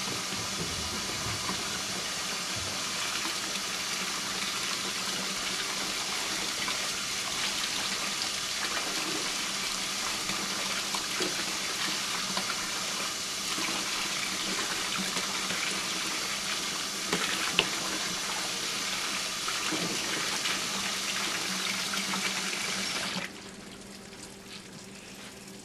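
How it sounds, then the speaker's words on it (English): Steady running water rinses suds from a dryer part, splashing and hissing continuously for most of the clip, then cuts off abruptly near the end, leaving a quieter background. "as I'm rinsing off all of these suds, that water is going right through there"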